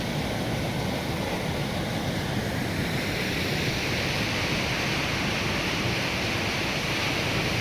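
Swollen Garoga river water rushing in a natural channel during rain, a loud, steady broadband roar of fast-flowing current that continues unbroken, close to the listener with no talk.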